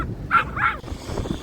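Dogs bark twice in quick succession at a middle distance outdoors, sharp yelps over a low background rumble.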